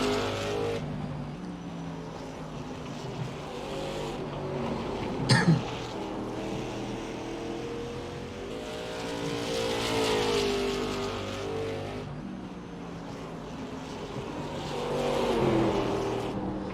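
Late model stock car engine roaring at sustained high revs in an iRacing replay lap at USA International, a steady loud drone swelling and easing through the corners with no talk.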